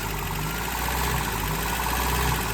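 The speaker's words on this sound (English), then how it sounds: "engine's doing this." The 22RE engine of a 1993 Toyota pickup idles roughly with a steady, loud, close mechanical rumble and a buzzy vibration, with no one talking.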